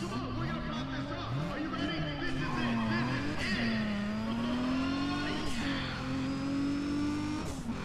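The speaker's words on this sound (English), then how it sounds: "I'm gonna let it rev up into 5th and dump the knob" A car engine in the Need for Speed ProStreet racing game revs up through the gears, pitch climbing, dropping at each shift and climbing again, loud and continuous with no talk over it.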